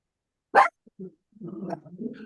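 One abrupt, close dog bark rings out alone, followed by a brief pause and then muffled low talk.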